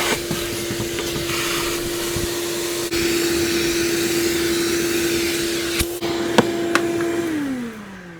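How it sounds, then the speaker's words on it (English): Vacuum cleaner sucking up metal shavings inside a Sprinter van during a fresh water inlet installation, a steady close whining drone with a few sharp rattles and clicks of debris before the motor winds down at the end. "So now, vacuum cleaner."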